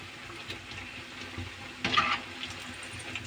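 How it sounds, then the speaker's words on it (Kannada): Vadas fry in hot oil with a steady, close, dense sizzle and crackle that holds throughout, rising into a brief louder hiss midway. "ನಾನೀಗ ವಡೆ ಎಲ್ಲ ಎಣ್ಣೆಗೆ ಹಾಕಿ ಮಾಡ್ತಾ ಇದ್ದೀನಿ"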